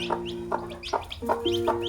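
Hens clucking in short, repeated bursts as chicks hatch, close by and fairly steady, with a soft background hum underneath.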